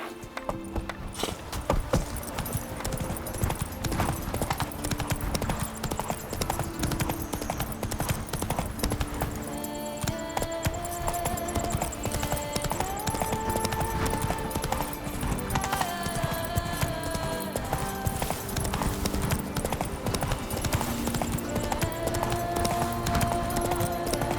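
Horse hooves clip-clop at a steady riding pace in The Witcher 3, set in Toussaint, running continuously under game music and ambience with no talk.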